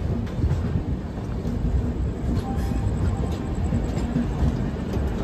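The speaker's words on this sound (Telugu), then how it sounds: "ఇప్పుడు మన ట్రైన్ ఏమో విజయవాడలో ప్లాట్ఫామ్ నెంబర్ 1లో ఎంటర్ అయిందండి" Passenger train rumbling into platform 1 at Vijayawada Junction, heard from inside a second-AC coach of the Prasanthi Express: a steady low rolling drone of wheels and car noise, continuous and moderately loud throughout.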